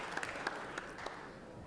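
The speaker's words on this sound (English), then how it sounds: "I'll give her a round of applause." Applause in the Georgia Senate chamber for a guest, a fairly quiet, moderate crowd of clapping hands, with a few sharper claps standing out early before it evens out and fades slightly.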